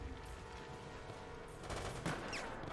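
Rapid bursts of gunfire from the video game Resident Evil: Operation Raccoon City, a quick volley of shots building in the last second, heard fairly faintly alone without talk.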